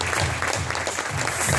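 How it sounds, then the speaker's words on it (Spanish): An audience at a sales workshop applauds, a short, loud, dense burst of clapping heard alone. "Un aplauso para ustedes, por favor."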